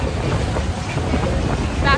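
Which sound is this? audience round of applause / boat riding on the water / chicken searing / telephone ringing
boat riding on the water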